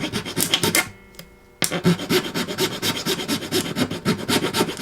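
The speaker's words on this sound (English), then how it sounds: "This calibration I will actually do by hand with the knuckle vise and a small file." Small hand file rasping back and forth across a fret end on an ebony guitar fingerboard, a Taylor 814CE held in a knuckle vise: steady close strokes, roughly two per second, with one brief pause partway through.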